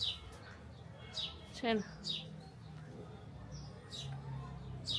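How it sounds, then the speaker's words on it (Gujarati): Sparrows chirping outdoors among mango and chikoo trees near a home, giving short, high, scattered chirps over a low background hum, with a brief spoken phrase in between. "ચકલીના મસ્ત અવાજ આવતું હશે તમને."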